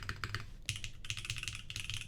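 Mechanical keyboard with gasket socks mount, an Americano SE Manta build, typed on in quick bursts of close, slightly deep and resonant clacks with brief pauses between runs of keystrokes.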